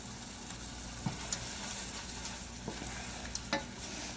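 Butter and flour for a roux sizzle steadily in a hot pan, a quiet continuous crackle broken by a few sharp clicks and taps of a stirring utensil, with no talking.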